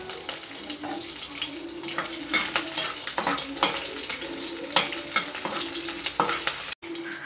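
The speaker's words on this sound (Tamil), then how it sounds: "எண்ணெய் சூடாகிடுச்சு, கடுகு உளுத்தம் பருப்பு போட்டுக்கலாம்." Mustard seeds, urad dal and slit green chillies frying in hot oil, a steady close sizzle with crackling pops and stirring scrapes throughout, briefly cutting out near the end.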